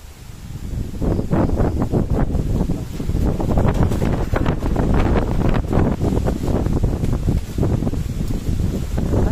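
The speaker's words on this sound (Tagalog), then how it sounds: "ngayon pa lang lumalakas ang hangin" Strong gusting wind roars and buffets continuously, loud and close, with rushing turbulence throughout and no voices.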